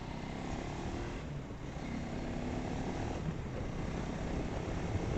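A KTM Adventure 390 X+ motorcycle riding in low gear, a steady loud engine drone mixed with broadband wind rush, constant and unbroken for the whole stretch, no speech.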